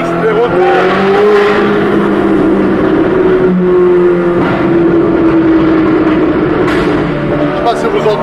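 Loud Ferrari engine roaring from inside the cabin, with revs rising and falling through downshifts and occasional sharp exhaust pops, while people talk over it.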